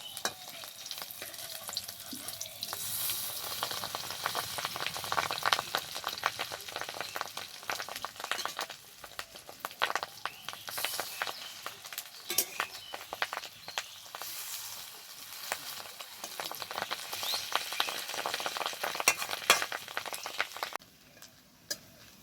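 Long, steady crackle of fritters frying in hot oil, dense hissing with scattered pops, quieting briefly near the end.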